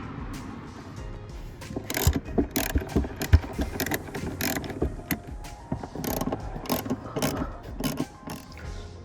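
A hand ratchet working car seat bolts loose, fast clicking pawl bursts in uneven runs with metallic knocks and tool handling, close and fairly loud, with no talking.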